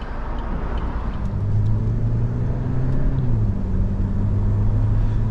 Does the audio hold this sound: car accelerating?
yes